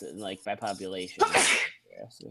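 A person talks briefly, then lets out one loud, sharp sneeze, followed by a short quiet gap and a few faint voiced sounds.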